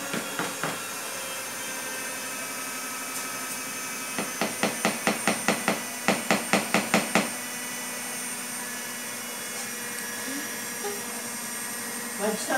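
An electric mixer beats passion fruit cake batter with milk in a home kitchen, giving a steady whirring hum broken by runs of rapid rhythmic knocking, with talking in the background.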